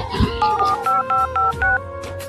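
A telephone is dialed for a call. A soft thump is followed by a quick run of about seven short, evenly spaced keypad tone beeps, close by and with no talk.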